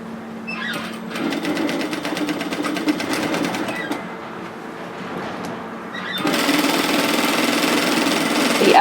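A sewing machine stitches apron fabric with a steady, fast mechanical whir and fine needle rattle, pausing briefly and then running on louder and closer.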